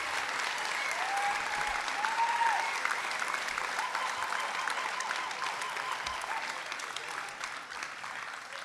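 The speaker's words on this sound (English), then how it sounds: "You can clap now." A school senior awards night audience claps in a dense, steady burst of applause that lasts the whole stretch and slowly eases off toward the end.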